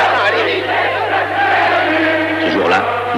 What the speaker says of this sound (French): de la foule s'élève un seul cri